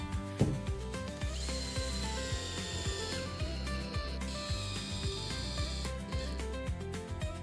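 A power screwdriver drives screws during a tiny house build, its steady whine running close with rhythmic ratcheting clicks and scraping of wood underneath.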